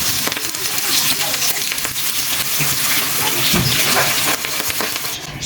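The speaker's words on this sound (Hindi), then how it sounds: "इस गरम ऑयल में हम ये जो रोटियाँ हैं ये इसमें ऐड कर देंगे। इसको लो फ्लेम पे हम फ्राई करेंगे।" Rotis fry in hot oil over a low flame, with a dense, steady sizzle and crackle that rises and falls close by and has no voices over it.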